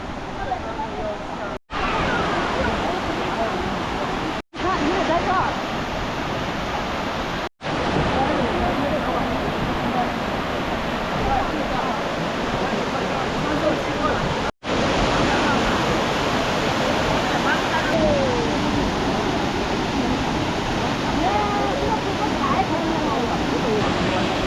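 Steady roar of a waterfall at Jiuzhaigou in a high-altitude scenic area, continuous broadband rushing water filling the whole stretch, loud and close, with brief cuts of silence between segments.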